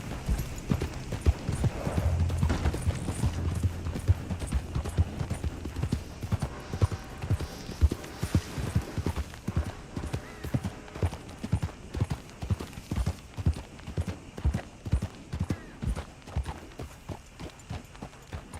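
In the video game Red Dead Redemption 2, a horse's hooves clip-clop steadily along a road, a brisk, continuous rhythmic clatter of distinct hoofbeats heard up close for the whole stretch.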